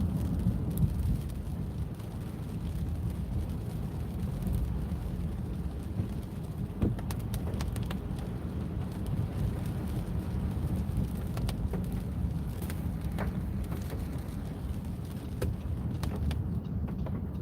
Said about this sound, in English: Thank God it's raining.